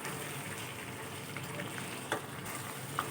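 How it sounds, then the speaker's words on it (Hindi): Ginger garlic paste fries on a medium flame with a soft, continuous sizzle and a couple of light stirring taps, quiet and without any voice. "अदरक लहसुन के पेस्ट के साथ 1 मिनट तक फ्राई करेंगे मीडियम फ्लेम पे।"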